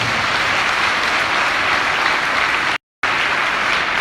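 A large audience at an evening gathering applauds steadily, the dense clapping staying loud and even throughout, broken by a brief dropout.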